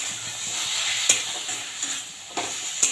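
Ground Gobindobhog rice paste being stirred into a banana blossom curry in a pan, with a continuous sizzle and a few sharp scraping clicks of the spoon spaced through the clip.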